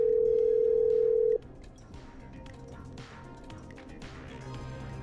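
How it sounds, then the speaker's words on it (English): Telephone dial tone in a video game, a loud steady tone cutting off after about a second and a half, followed by quieter clicks, taps and background game noise. "Okay, I'm dialing."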